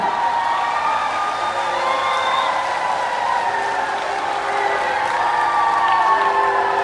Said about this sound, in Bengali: ভাই বোনেরা আমার একটু হাতে তালি বাজিয়ে দিন